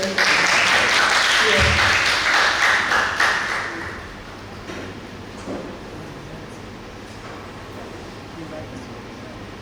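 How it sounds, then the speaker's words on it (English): Audience applause at a university pharmacy presentation event, loud steady clapping from a crowd that fades out after about four seconds, leaving room noise and a brief voice. "please give a big applause again to the Chiba University Hospital"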